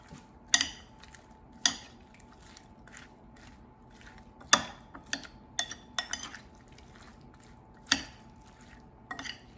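Korean cucumber salad being mixed with onions in a bowl, giving a series of separate clinks and wet squishing taps from utensils against the dish, close and fairly crisp, with quiet gaps between strokes and no talking.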